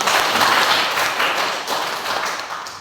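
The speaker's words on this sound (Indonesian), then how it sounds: "Tepuk tangan untuk kita semua." A group of participants in a class session claps together in a short, uneven patter of hands, loud at first and then tapering off over a few seconds, with no talk.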